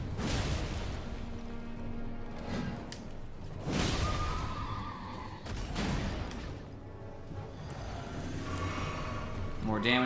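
A horse in the video game Elden Ring whinnies amid combat, with neighs and snorts mixed with whooshing strikes and impacts while a player talks over the game sounds.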